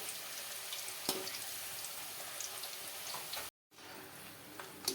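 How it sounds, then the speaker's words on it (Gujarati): Potato wafers fry in oil in a wok with a steady, faint, hissing sizzle, with occasional stirring clinks, a brief dropout near the end, and no speech. "હવે આપણે તેને પણ ફેરવતા જઈએ અને ક્રિસ્પી થાય ત્યાં સુધી તળી લઈએ."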